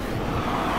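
Passing cars in the city-centre streets of Carlisle, Cumbria, heard as a steady low traffic rumble over a brief moment, fairly faint, with no talk.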